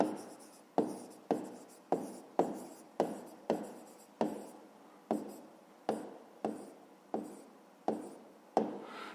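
A pen writes a math solution on paper in quiet, close scratching strokes, about a dozen short bursts in a steady, even rhythm with brief pauses between them.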